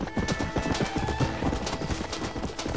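Horse hooves clip-clopping in Red Dead Redemption: a steady, rapid run of close hoofbeats throughout, with rumbling game noise beneath.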